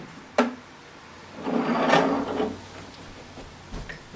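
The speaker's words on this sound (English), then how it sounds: "just undo these two latches and lift the top half straight up" Two latches snap open on a CFX carpet extraction machine, then a longer scraping, rubbing clunk as its plastic top half lifts straight up, with a few faint knocks afterward, close and fairly quiet.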